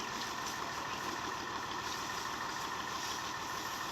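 An old Massey 240 tractor, stuck in the field, idles with a steady low rumble that runs continuously and faintly, with no voices over it.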